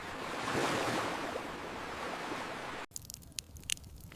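Ocean surf at a Pacific island shore rushes in a loud, steady wash of breaking waves close by, then cuts abruptly to quieter shoreline ambience with scattered splashes and handling noises.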